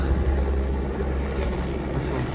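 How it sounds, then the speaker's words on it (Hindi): A helicopter runs at a hilltop helipad, its engine and rotor producing a loud, steady, unbroken roar with deep rumbling throughout. "हेलीकॉप्टर।"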